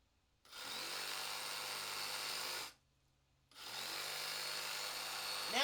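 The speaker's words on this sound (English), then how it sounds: "Now he's using a cutter." Power saw or cutter cutting, two sustained bursts of harsh buzzing whine separated by a brief pause, the second starting again right before the end.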